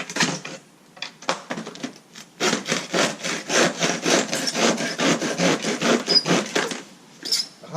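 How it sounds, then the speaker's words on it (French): A hand saw rasps back and forth through a wooden crate in quick, steady strokes, close and fairly loud, after a few hesitant starting pulls. "rapidement avec une scie"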